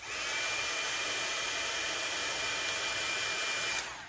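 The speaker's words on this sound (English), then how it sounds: "I'm going to just go over it just quickly with the heat tool" Heat tool drying ink on a stamped paper card, a steady loud blowing whoosh held for about four seconds before cutting off abruptly.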